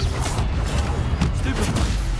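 Spells are cast in Hogwarts Legacy as a string of quick, punchy magical impacts and crackling bursts, close and loud, layered with busy game effects throughout.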